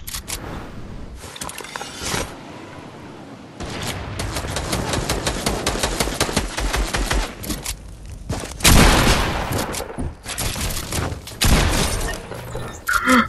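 Repeated gunfire in the Fortnite video game, loud blasts and bursts of shots with sharp shattering cracks, coming in clustered volleys with brief gaps across the clip and no voices.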